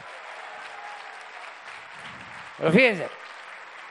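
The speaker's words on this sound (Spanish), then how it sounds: "Un aplauso para ellas y ellos." A crowd applauds the archaeologists and restorers at the opening of a national park and museum, a broad, even wash of clapping heard at moderate distance before a voice briefly cuts in.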